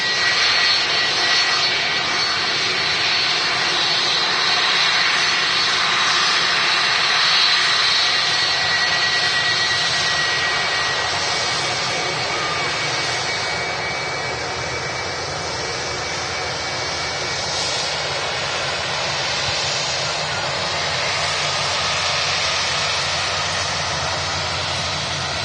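Jet aircraft engines roar at Manchester Airport, a loud, continuous broadband rumble and whine that swells and eases slightly as planes move, with no talk.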